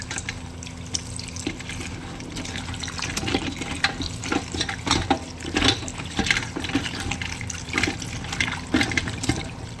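Large okra pods are rinsed under a running kitchen tap, water splashing and spattering continuously, close and fairly loud, with rustling and knocking as the pods are rubbed.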